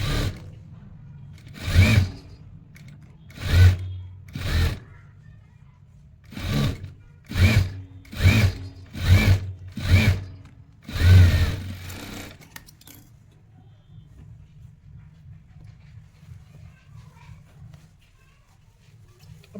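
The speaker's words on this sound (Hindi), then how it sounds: "अब सिलाई से सिलाई को मिलाते हुए हाफ इंच के गैप पे हमने स्टिच कर देना है बॉर्डर को स्लीव्स के साथ" A sewing machine stitches a border onto T-shirt sleeves in short bursts, about nine quick runs separated by pauses, then a low hum under quiet background noise.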